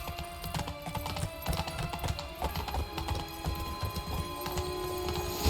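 Roach the horse gallops in The Witcher 3, hooves clip-clopping in a quick, steady rhythm against a humming background and faint music, close and continuous without speech.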